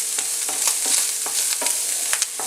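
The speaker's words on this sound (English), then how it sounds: "Just use your spoon to stir them in, because they'll add flavour to your pasta" A spoon scrapes and stirs browned bacon bits across a hot frying pan, a steady sizzle broken by repeated short scraping strokes, close and clear with no talking.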